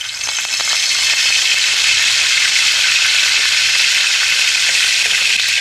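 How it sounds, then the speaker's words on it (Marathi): Curry leaves hit hot oil in a pan over a wood-fired stove, breaking into a loud, close, continuous sizzle and crackle that holds steady from start to finish. "तेल तापले, टाकूया कढीपत्ता।"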